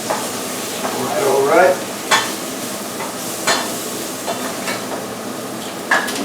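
Mushrooms and onion fry in butter in a pan, a soft continuous sizzle broken by several sharp scraping stirs, with a brief spoken word over the cooking.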